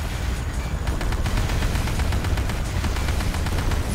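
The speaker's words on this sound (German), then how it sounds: "Wer schießt da?" Dense, continuous gunfire from Command & Conquer: Renegade, a steady rattle of rapid shots filling the whole stretch at loud, constant level with no voices.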